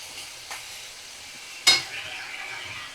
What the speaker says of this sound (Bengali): আমি মিডিয়াম ফ্লেমে রেখেই 2 থেকে 3 মিনিট একটু নাড়াচাড়া করব